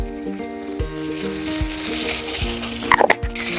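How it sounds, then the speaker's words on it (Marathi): Masala with red chili powder sautéing in a pan for Khandeshi patodi rassa: a loud, continuous close sizzle of frying spices, with a few sharp stirring knocks and scrapes and a brief burst of clatter near the end. "आपला मसाला परततोच आहे"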